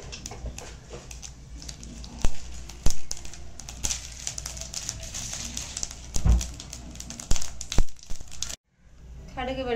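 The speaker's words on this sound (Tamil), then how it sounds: "கடுகு வெடிச்சிச்சு, உளுத்தம் பருப்பு கலந்துச்சு," Mustard seeds and urad dal splutter and crackle in hot oil during tempering for sundal, a South Indian dish. Irregular sharp pops and crackles come close and fairly loud over a sizzling bed, with a brief silent gap near the end.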